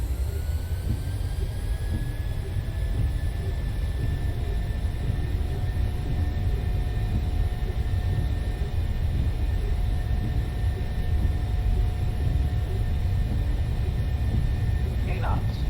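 Twin engines of a PMDG Boeing 737 in MSFS 2020 spool up to takeoff thrust on the runway, a steady loud roar with rising turbine whine throughout.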